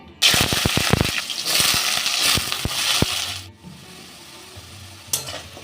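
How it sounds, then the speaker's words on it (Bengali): Diced potatoes going into hot oil in a home kitchen: sharp clinks and clatter as pieces drop in, a loud bubbling sizzle, and then a quieter, fading hiss of frying. "আলু ডুমো ডুমো করে কেটে নিয়েছি এই আলুটাকে ভেজে নেব"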